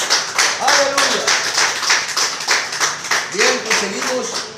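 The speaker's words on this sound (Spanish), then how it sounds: "Denle un aplauso al Señor." Congregation clapping in a church service, a steady run of rhythmic claps filling the room, with a voice singing or calling out over them in places.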